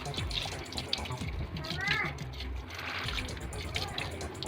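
Pressurised water gushes steadily from an opened outlet connection on an instant water geyser, a constant rushing flow while someone talks over it.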